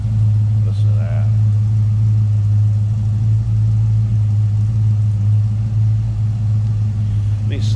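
A 1969 Ford Falcon Futura's V8 engine idles steadily with a deep, even low rumble, close and loud throughout, while a person speaks briefly over it.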